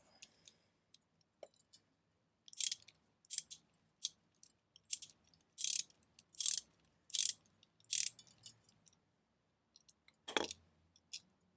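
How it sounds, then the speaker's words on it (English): A ratchet socket wrench loosens the bottom plate bolts while a Tongsheng TSDZ2 mid-drive motor is fitted to a road racing bike. Close, crisp bursts of ratcheting clicks repeat in a steady series, with quiet pauses between strokes. "Just prefer to get my socket wrench set out."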